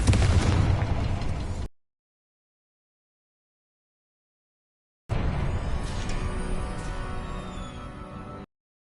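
Two loud magical blasts from the Confringo fire spell in Hogwarts Legacy, each a booming burst that rumbles and decays, separated by several seconds of silence.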